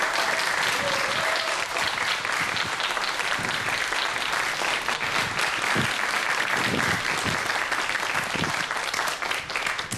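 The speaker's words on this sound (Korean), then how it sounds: "큰 박수로 맞이해주십시오." Long, sustained audience applause in a lecture hall as a professor is welcomed to the stage, dense steady clapping from many hands at an even, loud level throughout, with a few brief tonal sounds near the start.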